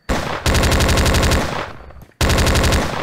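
Rapid automatic gunfire in the video game Slendytubbies III, loud close bursts of rattling shots broken by a short pause and then resuming.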